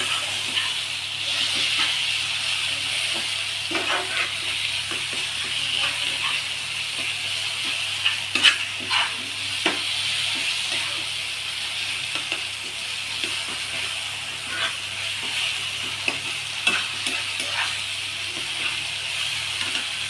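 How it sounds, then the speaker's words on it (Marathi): Mashed roasted eggplant for Khandeshi bharit is stirred in a hot pan, making a steady soft hiss and sizzle with irregular light scrapes and taps of the spoon scattered throughout, with no talking. "हे जे वांगे आपण भाजून बारीक केलेले आहे ते टाकायचं यामध्ये आणि व्यवस्थित आपण मिक्स करून घ्यायचं"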